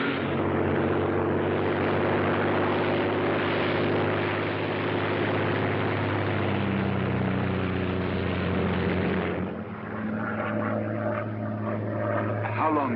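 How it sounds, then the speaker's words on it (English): A Royal Air Force propeller plane drones steadily in a 1942 black-and-white film, a loud continuous engine hum that thins near the end as voices speak over it. "a Royal Air Force plane is waiting for us at a secret landing place"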